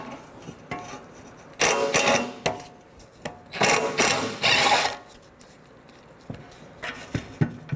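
A 12mm socket ratchet works bolts loose on the exhaust heat shield of a 2006-2012 Toyota in several short bursts of rapid clicking, with clanks and pauses between them.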